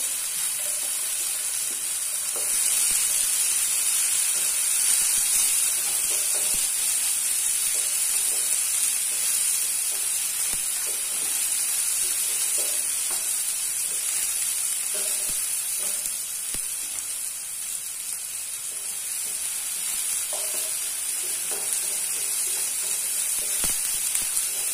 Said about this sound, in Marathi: आता त्यामध्ये मी टोमॅटो टाकते.